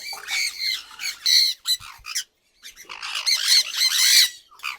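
Parrots at a bird farm squawk loudly and almost continuously, harsh overlapping calls from several birds close by, with one short gap in the middle.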